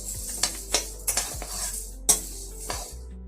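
Chana dal and urad dal dry roasting in a pan for idli podi, with a few sharp metallic scrapes and clinks of a spoon against the pan, spaced irregularly over a quiet, close background.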